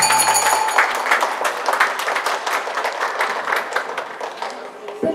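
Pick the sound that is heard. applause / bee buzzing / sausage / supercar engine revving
applause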